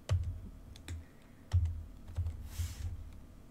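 Typing on a computer keyboard to fill in user fields in a firewall admin interface, with a close-up, irregular run of light key clicks and a few firmer thumps.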